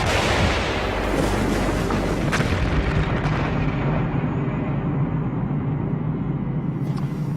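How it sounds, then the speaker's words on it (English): A Bangalore torpedo detonates against a barbed wire entanglement, a loud continuous roaring blast with heavy low rumble and debris noise that holds strong throughout, a brief crack near the middle, no voices. "The Bangalore torpedo must blast through the wire quickly."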